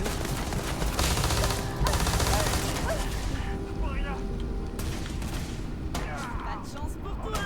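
Steady gunfire in the Starfield video game: a dense, continuous stream of rapid shots and impacts with booming bursts, loud and close throughout the whole stretch.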